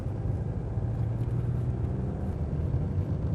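A new 2023 Mercedes-AMG GLC 300 drives with a steady low engine drone and road rumble muffled by cabin sound isolation, heard from inside the car as a constant hum.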